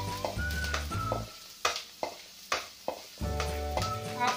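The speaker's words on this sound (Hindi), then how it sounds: "ऑयल अच्छे से गर्म हो चुका है, जो मैंने बारीक कटे हुए लहसुन रखे थे वो डालूंगी और 2 मिनट तक इसको अच्छे से पकाऊंगी" Finely chopped garlic frying in hot oil for a white sauce pasta, a soft sizzle under clinking pan and spoon hits, with several sharp stirring knocks in the middle before steady cooking resumes.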